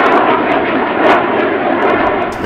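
Military jet roaring low overhead during touch-and-go landing practice at Coupeville outlying field, a loud, harsh, continuous engine blast that fills the whole short stretch without easing.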